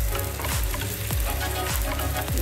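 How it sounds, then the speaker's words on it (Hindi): Potato patties shallow fry in a pan over a gas flame, a loud, dense, close sizzle with rhythmic scraping strokes from a spatula. "इसे इसी तरह हम शैलो फ्राई करेंगे"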